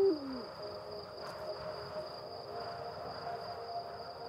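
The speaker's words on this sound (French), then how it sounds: "Le hibou grand-duc attend patiemment le coucher du soleil pour partir en chasse." A Eurasian eagle-owl hoots at dusk in the Alpilles massif, its deep call sounding once near the start over a steady high insect drone and faint background hum.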